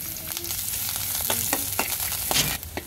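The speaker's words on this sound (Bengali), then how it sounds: "রসুনটা শুকনো মরিচটা আগে ভাজা নিলাম" Garlic and dried red chilies fry in hot oil with a dense, continuous sizzle, broken by scattered sharp pops and spatters, heard up close with no talking.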